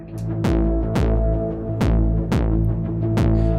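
Distorted kick drum from a Eurorack system, run through a Viol Ruina distortion module, thumps five times at a steady mid-tempo pulse over a sustained droning hum, loud and close.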